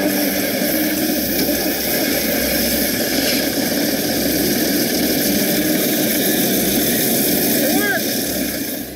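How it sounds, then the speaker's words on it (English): A loader truck's engine runs after being warmed with a kerosene heater in cold conditions, a loud, steady mid-pitched idle rumble with people talking over it. "Thanks to Corey, we were able to heat up the engine enough to get it running."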